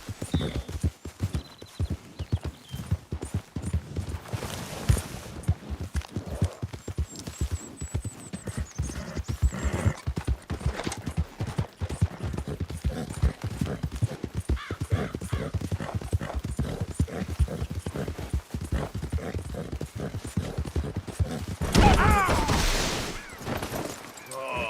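Horse hooves trot in a steady clip-clop rhythm in the Red Dead Redemption 2 game, with a brief whinny and a burst of louder noise near the end; a voice speaks briefly over it.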